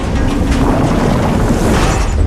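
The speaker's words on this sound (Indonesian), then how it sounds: "Lalu Jenderal Strickland melakukan bunuh diri dengan meledakkan granat yang menimbulkan efek ledakan luar biasa." Grenade blast in the superhero film Venom: The Last Dance, a loud, heavy rumbling boom that fills the whole moment and rolls on without a pause, with no voices over it.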